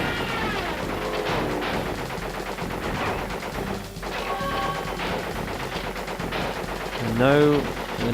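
Rapid automatic gunfire in the Crash Bandicoot 3 video game, bursts of repeated shots over a busy mix of game music and effects, with a sweeping tonal sound near the end.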